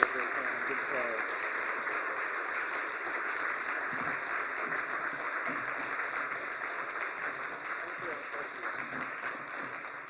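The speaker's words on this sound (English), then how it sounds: "please join me in giving Tom and Mary a big hand. Good applause." A live-streamed Illinois Legal Aid Online event audience gives Tom and Mary a big hand: a broad, even roar of applause that tapers slightly at the end, with talking audible over it.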